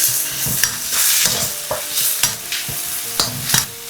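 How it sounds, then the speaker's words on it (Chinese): Green beans with garlic, red chili and scallion stir-fry over high heat, a loud, close sizzle with rhythmic spatula scrapes and tosses repeating about twice a second, and no talk. "大火翻炒2分鐘"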